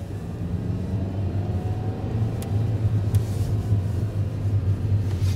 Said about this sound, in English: So I got the clutch in, put it in first gear, release the clutch until it starts to move, hit the gas